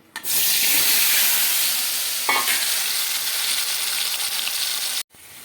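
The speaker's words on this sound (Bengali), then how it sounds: "তেলটা গরম হলে পরে আমি প্রথমে আলুটা ভেজে নেব" Potatoes hit hot mustard oil in a wok with a sudden loud sizzle that holds steady, broken by one brief stir scrape midway before cutting off abruptly near the end; close, no voices.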